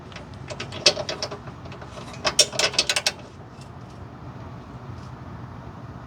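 A ratchet tightens a bolt on an adjustable lower control arm, giving two bursts of rapid, close clicking, the second louder, before fading to quiet background.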